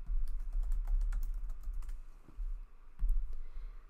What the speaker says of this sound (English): Let's say I type in happy birthday.